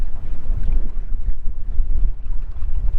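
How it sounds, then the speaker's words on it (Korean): Loud, continuous wind roars and buffets a microphone outdoors on Yokjido island, Tongyeong, with a low rumbling texture and no voices. "지금 바람 소리가 지금 와 엄청납니다"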